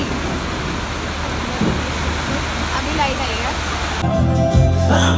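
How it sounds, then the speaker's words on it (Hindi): Very heavy rain pours steadily during a power cut on a girls' trip in Goa, a dense continuous roar close by, with talk over it before the noise shifts near the end. "लाइट जा चुकी है और बहुत तेज़ बारिश आ रही है"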